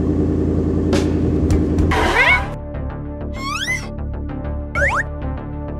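A car engine runs steadily and then revs as the car pulls away to be hidden, with sharp whooshing sweeps passing over the rumble.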